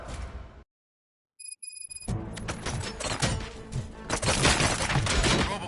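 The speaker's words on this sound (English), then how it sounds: "Gunshots? What's going on?" Bursts of rapid gunfire in the video game Robocop: Rogue City crackle in quick succession after a short silence and a few high electronic tones, growing denser and louder toward the end.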